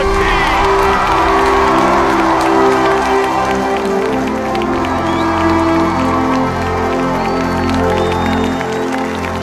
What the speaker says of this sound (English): listening to the thunderous applause from the audience